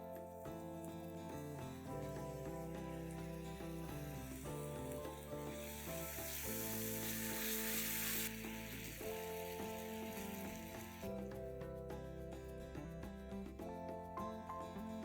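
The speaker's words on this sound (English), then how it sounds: "Just fry them for a few seconds in the oil." Green chilies and curd frying in oil in a cauliflower fry recipe, a steady sizzle running beneath loud, continuous music throughout.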